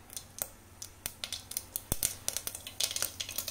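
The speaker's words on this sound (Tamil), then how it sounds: "கடுகு பொரியட்டும்." Mustard seeds splutter in hot oil in a pan while a lentil dish is being tempered, giving a steady run of small, sharp crackling pops at irregular intervals, quiet and close, with no talk.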